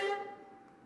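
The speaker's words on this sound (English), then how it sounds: "I started with little fragments of the first violin part" A short fragment of a first violin part gives a single bowed note that starts bright and fades quickly within a second, quiet and alone.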